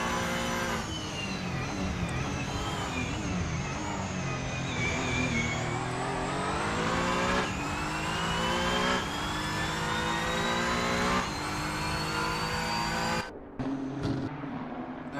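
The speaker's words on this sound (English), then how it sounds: "Mercelado, the last car who have yet to make a stop, is on the verge of being overtaken by Brendan McCauley, the Gauguin Nissan" Nissan GT3 race cars at the Red Bull Ring in a racing video game, a continuous loud engine roar with repeated rising revs and upshifts as cars pass close, ending with a brief drop in sound.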